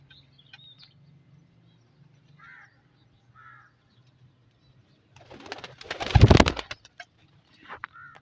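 Breeder pigeons, fancy Teddy and Royal Teddy types kept in a loft setup, give a few faint, soft coos, then a short loud flurry of flapping and rustling nearby, followed by quieter scattered calls.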